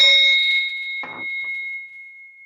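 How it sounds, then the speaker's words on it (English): A single bright ring of a small hand bell, its clear tone lingering and slowly fading in an otherwise quiet room. "So I'm going to ring this bell."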